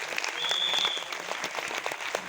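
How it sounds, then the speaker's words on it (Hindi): Audience at a meeting applauding: dense, continuous clapping from a crowd, loud and sustained across the whole stretch without a break. "एक जोरदार ताली होना चाहिए आप सबके लिए।"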